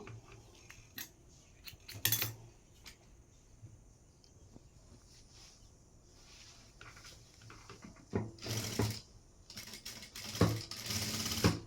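A sewing machine stitches a fabric mask in a few short, separate runs of rapid needle clatter, close and fairly quiet, with handling noise and quieter pauses between them.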